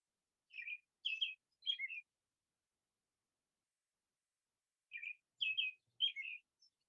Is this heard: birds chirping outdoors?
yes